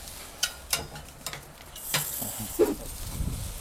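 Sausages sizzle on a BBQ grill outdoors, a soft hiss broken by clicks and scrapes as they are turned, quiet and close, with no talking.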